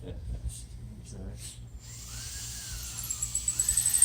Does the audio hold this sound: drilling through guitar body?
yes